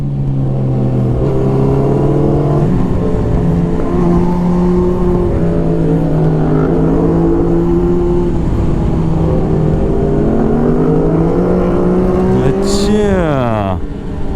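A Suzuki Hayabusa motorcycle engine under throttle while riding, a loud steady drone that climbs and shifts in pitch, then rises sharply near the end, with a voice talking over it.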